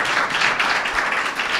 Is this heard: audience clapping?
yes